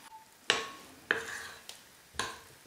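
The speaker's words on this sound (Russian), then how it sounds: "Замешиваем тесто." Vareniki dough is mixed in a bowl as flour is gradually stirred in, giving four spaced, faint knocking scrapes of the utensil against the bowl.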